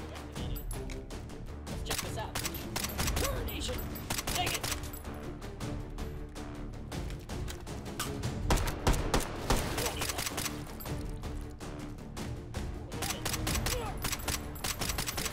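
Rapid, steady gunfire in the VR game Hot Dogs, Horseshoes & Hand Grenades, Take And Hold mode, with close, punchy shots repeating throughout and mechanical clicks between them.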